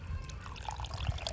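Tamarind water is poured into sambar in a pot, a brief close trickling and splashing of liquid that stays steady and moderately loud.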